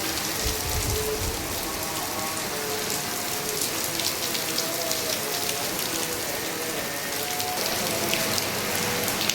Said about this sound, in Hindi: बारिश भी तेज़ हो गई है पहले से ज़्यादा